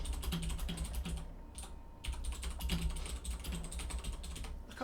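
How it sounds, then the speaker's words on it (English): Fast, steady keystrokes clatter on a Razer BlackWidow mechanical keyboard muffled with rubber rings under the keys, continuous and close with only brief pauses, no voices. "That's a Razer Black Widow. It's quiet."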